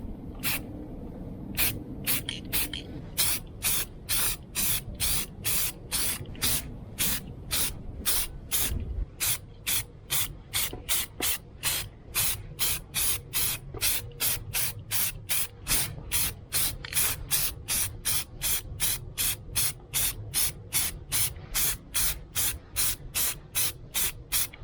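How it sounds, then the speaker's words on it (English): Spray paint applied to a PS4 console part in short repeated bursts, dozens of sharp hissing puffs in a quick steady rhythm, close and loud, with no talk. "I had to kind of spin around so that way I can spray up like this"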